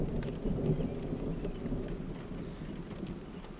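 Steady rain falls outside an empty laundromat on a Sunday night, a dense low rushing wash with a deep rumble underneath, continuous and fairly close, with no voices.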